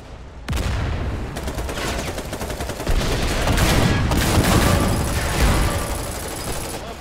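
Dense, continuous battle noise in the war game Foxhole, with tank fire and heavy rattling gunfire merging into a loud, roaring wall of shots and booms that starts abruptly and stays intense.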